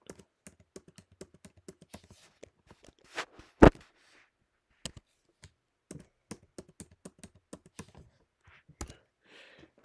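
Keys on a computer keyboard are tapped in short irregular bursts, the way a password gets entered, with one louder keystroke near the middle and quiet gaps between the clicks.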